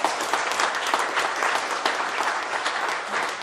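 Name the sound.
audience applause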